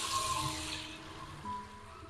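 Water pours steadily into a cooking pot of turmeric-seasoned dal mash with a continuous splashing rush, fairly close, settling slightly toward the end.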